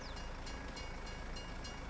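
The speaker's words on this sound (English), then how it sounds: "Ah, the train's coming." A train passing in the video game Farming Simulator 22 gives a steady, faint rumble with a soft, regular clatter of wheels, heard on its own with no voices.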